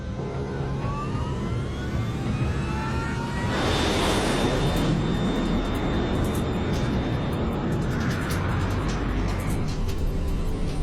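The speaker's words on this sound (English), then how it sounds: "LAM 470, you are cleared for takeoff." A LAM Mozambique Airlines airliner taking off, a loud steady engine roar with a rising whine building as it accelerates down the runway, continuous throughout.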